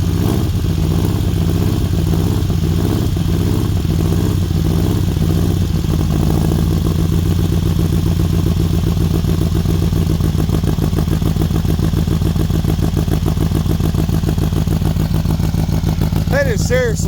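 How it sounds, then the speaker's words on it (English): A 4-cylinder engine from a fleet of old project cars runs loud and close, holding a steady, throbbing mechanical drone at idle for the whole stretch. "That is seriously a nice sounding 4-cylinder."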